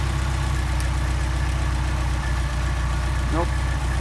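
An engine fitted with a worn Solex carburetor runs steadily with its throttle pulled wide, a loud, constant low rumble and drone with slight uneven knocking throughout.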